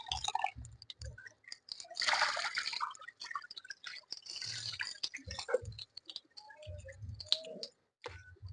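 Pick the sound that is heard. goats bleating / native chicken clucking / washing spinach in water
washing spinach in water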